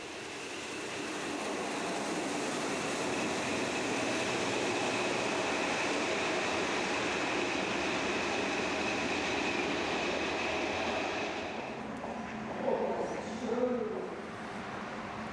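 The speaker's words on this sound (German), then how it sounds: "Jetzt ist die Lok auf dem Rückweg nach Probstzeller." DB class 150 six-axle electric locomotive running back toward Probstzella after banking a train, a steady broad rumble and whine that holds at even loudness, then eases off near the end as a few faint bird calls come through.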